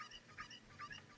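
A cucco, the chicken of Zelda: Ocarina of Time, clucks in quick squawky bursts that repeat about three times. The clucks are fairly faint and sound alone, with no voices.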